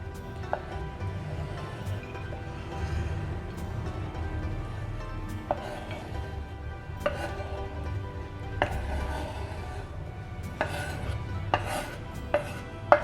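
A knife finely chopping food on a cutting board in a home kitchen, with sparse, light, irregular taps over a low background hum and no talking.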